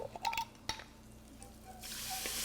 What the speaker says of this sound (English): I'm gonna deglaze it with some lemon juice.